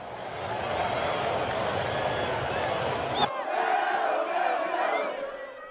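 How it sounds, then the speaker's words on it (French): A large crowd in the street in Salé, Morocco, celebrating a World Cup win, loud sustained cheering and chanting with clapping, continuous roar that briefly shifts in tone midway. "la foule est descendue dans la rue, comme ici à Salé, la ville voisine de la capitale Rabat"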